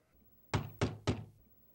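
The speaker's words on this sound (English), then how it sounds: "There's a knock at the door." Three firm, evenly spaced knocks on a door, close and resonant, with quiet silence before and after.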